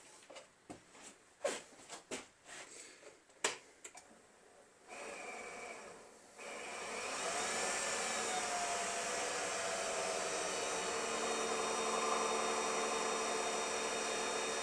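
A wood lathe turning a wooden pen blank at about 1000 RPM, starting after several sharp clicks and bumps and then settling into a steady, loud whirring hum that runs to the end.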